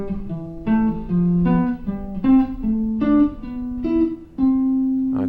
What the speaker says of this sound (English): that's called a diatonic fourth sequence